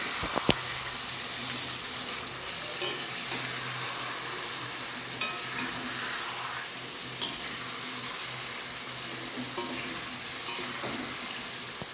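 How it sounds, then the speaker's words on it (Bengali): Meat frying in a wok (kadai) in a home kitchen, a constant bright sizzle with occasional clicks and scrapes of stirring, close and steady. "তারপর ওটা কড়াই দিয়ে দিলাম তো চলো মাংসটা চটপট করে নিই"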